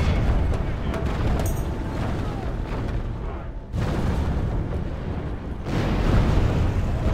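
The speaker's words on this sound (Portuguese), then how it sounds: "Não tem mais como se esconder dos tiros." Dense, continuous battle noise from Medieval 2: Total War with heavy cannon blasts and crackling gunfire, loud and sustained, briefly dropping off midway before surging back.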